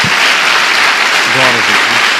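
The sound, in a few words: applause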